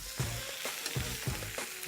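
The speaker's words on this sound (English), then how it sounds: "we got the turkey sausage sizzling here" Turkey sausage sizzles steadily in a pan, a dense crackling fry with faint rhythmic stirring scrapes underneath, heard close up with no voices.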